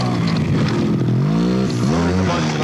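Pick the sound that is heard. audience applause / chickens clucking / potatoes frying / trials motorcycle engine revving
trials motorcycle engine revving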